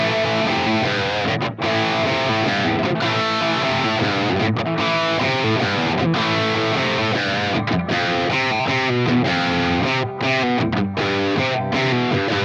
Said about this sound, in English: The sounds and tones are kind of exactly what you would expect on an HSS Strat style guitar loaded with high quality Lola pickups.